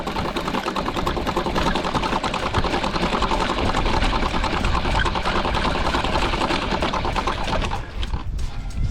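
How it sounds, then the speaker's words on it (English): Line-marking string is wound in onto a winder reel on a football pitch, giving a steady, close, rapid rattling whir that runs continuously and drops away near the end. "it's a bit easier for us if we wind it in. Got this nice fancy winder"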